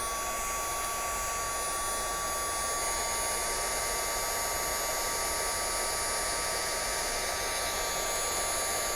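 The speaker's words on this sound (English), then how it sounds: "And then to hurry this along, we're going to go ahead and heat it with the heat gun" A heat gun blows across a card to dry ink splatters, giving a loud, constant close-up whooshing roar with a steady whine that never lets up for the whole stretch.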